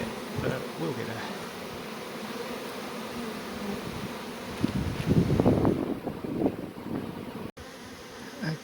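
Honey bees buzz during a beehive relocation, a continuous mid-range hum with wind brushing the microphone outdoors, swelling louder and closer for a moment near the middle before settling back to a steady drone.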